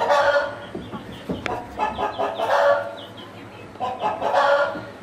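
Australorp chickens on a farm, a rooster and hens clucking and calling in loud, close, overlapping bursts that rise and fall across the whole stretch.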